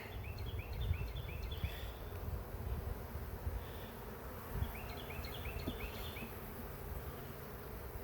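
Honey bees buzz around an opened hive full of stored honey, a continuous droning hum close by with shifting, overlapping wingbeat tones and occasional chirping from insects or birds nearby.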